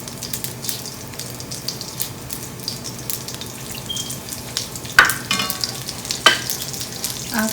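Cumin seeds fry in oil as the base for keema, a close steady crackling sizzle with a couple of sharper clinks of a utensil against the pan partway through, no voices.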